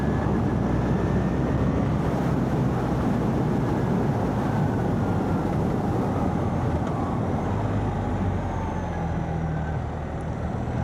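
A 2025 BMW R1300R motorcycle on the move gives a continuous low engine drone, heavily mixed with wind rush and road noise, with no clear gear changes.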